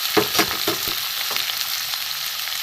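Thinly sliced snake gourd dropped into a hot oiled pan, bursting into a loud sizzle with a few sharp stirring knocks early, then a steady frying hiss.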